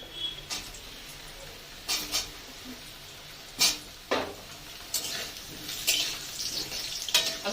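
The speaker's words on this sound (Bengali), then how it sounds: "এবার আমি আলুটাকে ভাজবো।" Potatoes fry in hot white cooking oil for a Bengali potato and pointed gourd curry, a quiet steady sizzle broken by scattered louder crackles and spatters as the pieces hit the pan.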